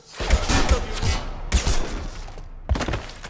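Gunfire in the video game Mass Effect 2, with repeated loud bursts of shots and heavy impact thumps in several clusters across a few seconds.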